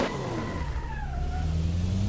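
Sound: drift car engine and tyres in a racing video game

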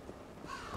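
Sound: crows cawing in the video game Vikings Wolves of Midgard

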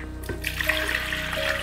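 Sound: water poured into a blender

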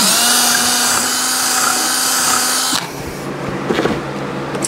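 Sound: drilling through plastic crate

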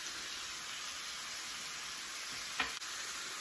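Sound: chicken frying in bacon fat

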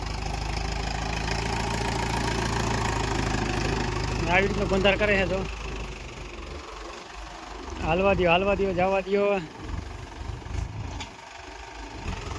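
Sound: tractor engine running while making cotton field bunds

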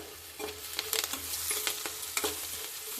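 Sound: okra frying in a pan

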